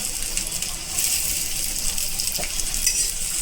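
Onion and garlic frying in a pan for a fish masala, a loud, continuous bright sizzle with occasional metallic clinks of a utensil.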